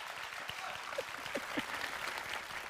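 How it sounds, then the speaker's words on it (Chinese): Sparse, scattered clapping from a theater audience at a Chinese crosstalk (xiangsheng) comedy show, a thin patter of individual claps continuing steadily without voices. "谢谢大家稀稀拉拉的掌声"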